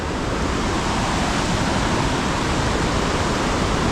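Hogenakkal waterfall rushes in a dense, steady roar of heavy water, loud and close, with no voices over it.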